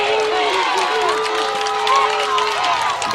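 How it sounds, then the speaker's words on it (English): A crowd at a high school football game between Providence and New Brockton cheers and shouts, a dense swell of voices with a commentator talking over it. "The crowd comes alive right here."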